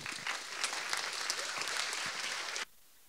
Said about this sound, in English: A round of applause for Markus Gabriel.